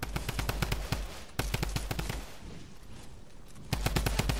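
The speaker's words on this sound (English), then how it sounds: "I shot him with one bullet" Rapid bursts of video game gunfire crack out in quick repeated volleys, loud and close, with a short lull in the middle before the shooting resumes.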